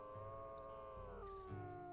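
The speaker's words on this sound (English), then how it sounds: "They're howling together." Several wolves in the WolfQuest game howl together, their long overlapping tones sliding in pitch, faint and steady with no talking over them.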